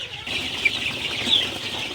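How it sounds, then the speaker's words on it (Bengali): Sonali super hybrid chicks, vaccinated against Gumboro that morning, peep in a shrill continuous chorus, close and fairly loud, with a few sharper cheeps standing out. "আপনারা দেখতে পাচ্ছেন আমার সোনালি সুপার হাইব্রিড মুরগির বাচ্চাগুলোকে"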